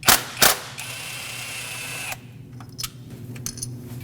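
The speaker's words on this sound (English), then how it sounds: "Use a 10mm socket and remove the bolt that holds it down." A ratchet and 10mm socket turn out the hold-down bolt on the ignition coil of a 2.5L four-cylinder Nissan Frontier, giving a couple of sharp close clicks, a steady whirring run, then scattered light metallic taps.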